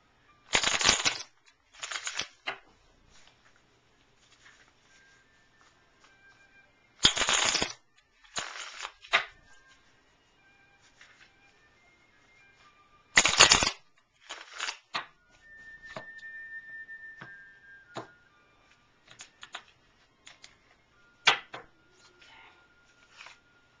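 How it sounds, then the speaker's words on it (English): Playing cards are shuffled in several quick riffling bursts, separated by quieter taps and soft handling sounds, close by. "So let's get to shuffle the cards for her."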